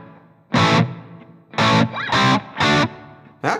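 Electric guitar with a hall reverb preset, five loud distorted chords or notes struck in separate bursts with short gaps, each ringing and trailing off into reverberant decay.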